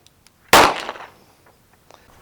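A Smith & Wesson 638 revolver fires one double-action shot at a shooting range, a single sharp, loud crack with a short ringing decay, alone and close.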